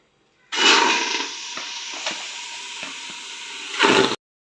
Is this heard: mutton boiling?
yes